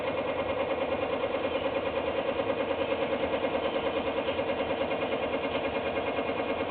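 A 1959 Westinghouse 44AC-1 record changer and amplifier running noisily, giving off a steady, rhythmic mechanical churn and hum that stays even and unbroken throughout.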